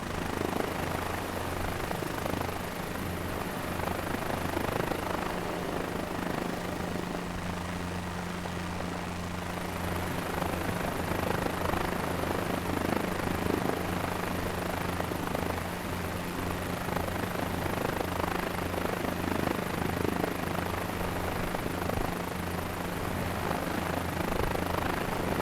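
A helicopter in Microsoft Flight Simulator 2024 runs with a steady, loud rotor and engine drone throughout, with low thrumming bands underneath and no talk.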